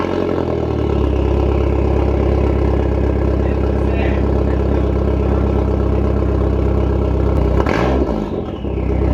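A Chrysler PT Cruiser GT fitted with a new 4-inch exhaust tip idles with a steady, deep rumble close by, then gives a brief rev near the end before settling back down.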